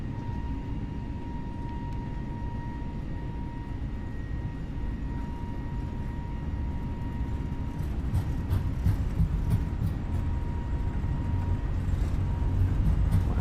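Airliner jet engines run up to takeoff thrust in Microsoft Flight Simulator 2020, a steady broadband roar with a faint whine that swells slightly louder toward the end, heard alone.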